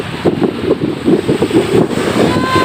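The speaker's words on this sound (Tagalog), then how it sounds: "Ito, lakas ng hangin oh." Strong wind gusting at a freshwater lake in Agusan del Norte, buffeting the microphone in loud, rough bursts of low rumble that come and go throughout.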